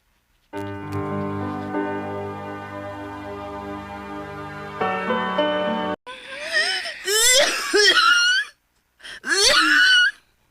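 A long sustained wheezing, whistling tone gives way to harsh, raspy coughing bursts, close and loud, with brief pauses between them.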